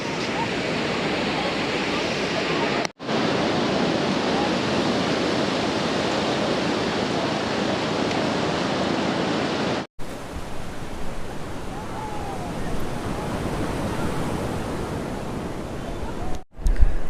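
Steady, dense roar of sea waves at Puri beach, broad and continuous like surf washing in, heard close and loud throughout with a few brief cuts and no clear talk.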